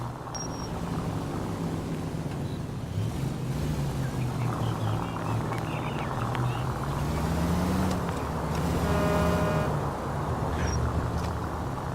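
A car in L.A. Noire drives fast, its engine drone steady and loud, rising and falling in pitch as it speeds along, with faint other traffic sounds and no talk over it.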